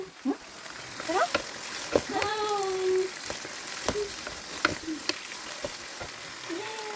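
Shrimp sizzling in a frying pan for pasta, a steady hiss broken by clanks of utensils, with several voices talking over the frying.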